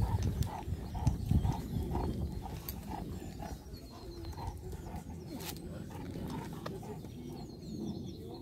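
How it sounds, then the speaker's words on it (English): Dreadlock donkeys walking on a 14 km hike, their hooves clopping in a steady close rhythm over the ground, with birds calling faintly in the background. "Dreadlock donkeys."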